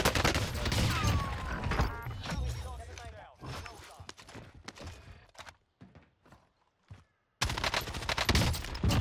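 Rapid bursts of gunfire in Call of Duty Cold War Warzone crack in dense volleys, break into scattered shots and near-silent gaps, then resume in a loud flurry, with voices heard faintly in the mix.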